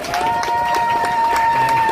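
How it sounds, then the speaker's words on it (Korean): A crowd at an outdoor rally in Gwanghwamun, Seoul, breaks into steady applause. The clapping is loud and continuous, and a sustained ringing tone runs over it. "여러분 큰 박수 부탁드립니다"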